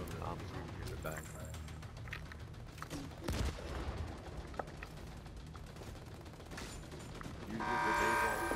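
Gunfire in The Division 2 crackles in rapid bursts through a dense game mix with steady background noise, a few sharper shots standing out, and a player talking over the action.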